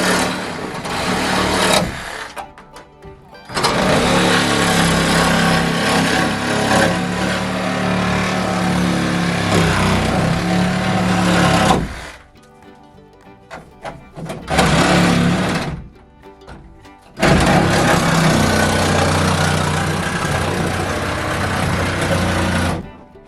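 A power saw cuts through a bathroom tub insert wall during demolition, buzzing loudly and continuously in long runs broken by short pauses.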